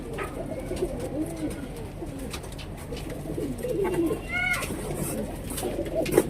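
Kaldume pigeons coo softly in a few repeated low rolling phrases at close range, with faint background noise and some brief higher chirps.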